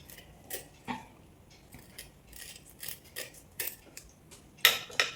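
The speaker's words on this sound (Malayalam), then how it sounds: "രണ്ട് സൈഡ് ഒന്നുകൂടെ കട്ട് ചെയ്യാം" Knife cutting a sardine on a board in a kitchen, with a series of sharp, separate ticks and clacks at irregular intervals, close and moderately loud, with one louder snap near the end.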